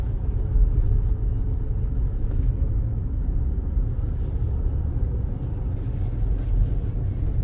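Cabin of a 2006 Lexus RX400h 3.3 hybrid 4x4 while driving: a steady, low road and engine rumble with soft tyre noise, fairly quiet and unbroken, no one talking.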